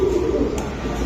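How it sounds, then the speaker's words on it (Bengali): Mayna breed pigeons coo in a low, continuous murmur close by, the soft throaty calls filling the short moment with a faint voice barely present. "বাছাইকৃত কবুতর ময়না"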